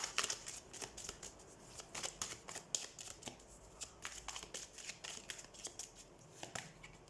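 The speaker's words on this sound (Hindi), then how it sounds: "so let's shuffle the cards and let's see" A deck of tarot cards being shuffled by hand: soft, close papery riffles and slides repeating in a quick, steady rhythm at low volume, with no talking.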